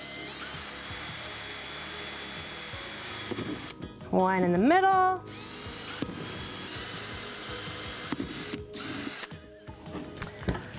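A power drill whines up in pitch as it bores through a plastic container lid, a single short burst of about a second, close and loud, with a person talking around it.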